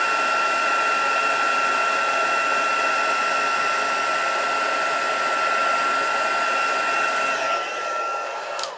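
A heat gun blows a steady, loud whining hiss while melting gold embossing powder, running continuously before tapering off near the end.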